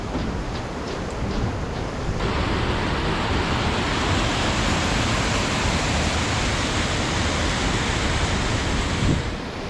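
A river rushes beneath a hanging vine bridge, a loud continuous broadband roar of flowing water that swells slightly after the first couple of seconds and holds steady, no talking.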